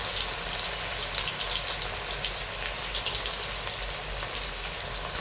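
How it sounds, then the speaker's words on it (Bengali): Sliced onions fry in hot oil in a wok for dhaba-style chicken kosa, giving a dense, even sizzle and crackle that stays steady and close throughout, with no voices. "এটাতে আমরা এবার পেঁয়াজগুলো ভেজে নিচ্ছি"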